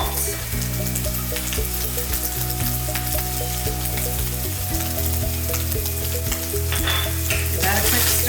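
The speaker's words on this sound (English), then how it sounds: "Okay, our beef is browning." Ground beef browns in a hot pan with chili powder and salt for taco filling, giving a steady, close sizzle and crackle under soft background music.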